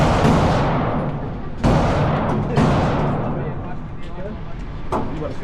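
Rifle shots at a gun range, three sharp loud reports spaced about a second apart with decaying echoes, followed by fainter distant shots amid background noise.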